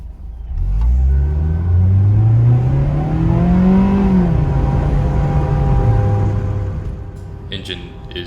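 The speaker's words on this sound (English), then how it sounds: "Just a quick standstill acceleration right here." A 2021 Mazda MX-5 RF Grand Touring accelerating hard from a standstill, its engine note rising steadily in pitch through the gears for several seconds, heard loud from inside the car.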